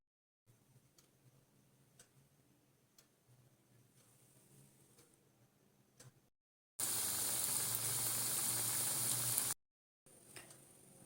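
Drumstick flower pakoras frying in hot oil, a loud, dense sizzle lasting a few seconds after quieter ticking kitchen sounds, then a brief softer sizzle.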